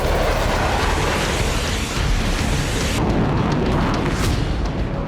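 Explosions from Russian strikes on Ukrainian cities, a dense continuous roar of blasts and rumbling booms filling the whole stretch, loud and close with no voices.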